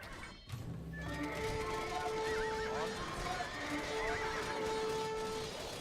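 Horse neighing in the video game Age of Empires 2, a loud whinny near the start followed by a clip-clop of hooves under game music, with the whinny and hoofbeats clear and close.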